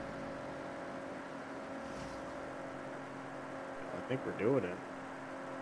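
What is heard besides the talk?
car engine revving down in Forza video game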